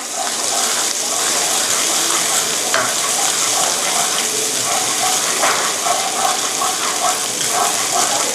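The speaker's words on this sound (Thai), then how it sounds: "เราก็จะใส่ รากผักชีที่เรา ตำไว้แล้วแบบนี้นะคะผัดให้หอมนะคะ" Pounded coriander root stir-fried in vegetable oil, a steady bright sizzling hiss with scraping and stirring noises, close and continuous.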